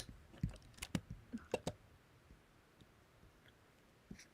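Computer keyboard typing in a quiet room: a short burst of sharp, irregular key clicks in the first couple of seconds, then near-silence with one last isolated tap.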